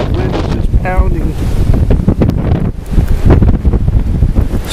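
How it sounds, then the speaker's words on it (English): Strong wind roars and buffets the microphone during a 2010 winter snowstorm, loud gusty rushing with irregular surges throughout. "the wind is just pounding"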